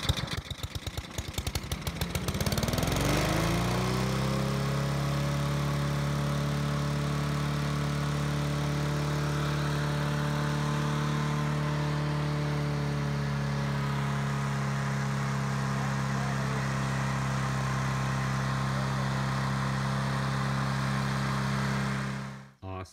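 An OHC Honda Quadra Cut dump-pick lawn mower engine sputters at the start, then catches and settles into a steady, loud, close idle hum that runs evenly before cutting off abruptly at the end.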